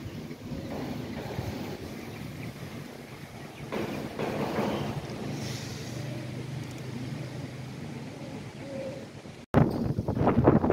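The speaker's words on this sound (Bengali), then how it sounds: "কেবল হালকা বাতাস ছাড়িছে, অমনি চারিপাশে ভাঙ্গা ভাঙ্গির শব্দ শোনা যাচ্ছে" Strong storm wind roars across a rooftop in a steady, close rushing buffet, with faint bird calls in the distance and a sharp break before a louder gust at the end.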